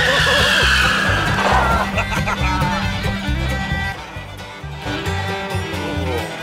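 A parts car carrying its motor, transmission and rear end is driven up to a garage, its engine revving loudly with tires scuffing, close and continuous throughout, easing slightly near the end.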